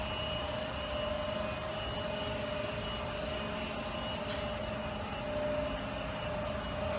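A 2012 Haas EC-1600 YZT horizontal machining center runs with through-spindle coolant on, giving a steady mechanical hum with a fixed tone over a constant hiss of spraying fluid, no voices.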